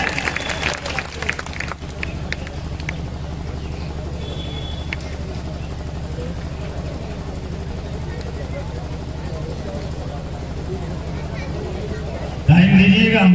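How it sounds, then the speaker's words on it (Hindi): Crowd applauds at an outdoor kushti wrestling bout, a sustained, even wash of clapping that runs throughout, with voices over it and a sharper burst at the end. "जोरदार ताली बजाइए।"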